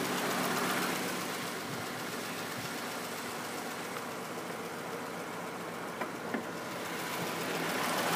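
A 3.6 liter VVT V6 in a 2013 Dodge Grand Caravan SXT wheelchair van idles steadily under the open hood, a close, even engine hum that holds for the whole stretch with a couple of faint clicks near the end.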